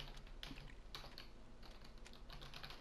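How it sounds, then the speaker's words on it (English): Keys clatter in quick uneven bursts on a computer keyboard, close and quiet, with short pauses between runs of typing. "Both typing at the same time, doing searches."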